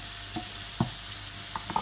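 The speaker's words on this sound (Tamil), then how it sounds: "இங்கே வந்து நம்மளுடைய தக்காளி தொக்கு நல்லா கொதிச்சிட்ருக்கு." Tomato thokku simmers and sizzles in a pan with a constant dense crackle, and a few faint soft taps sound over it.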